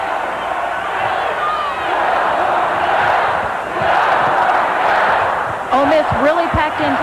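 A basketball arena crowd at a 1987 NCAA women's regional semifinal between Texas and Ole Miss roars and cheers continuously, swelling louder toward the end, with squeaking sneakers and a bouncing ball in the mix.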